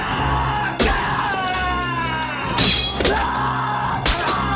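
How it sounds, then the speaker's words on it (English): Shouting and screaming burst out during a movie fight scene, loud and strained over a music score, broken by sharp crashing hits. "Oh, the screaming."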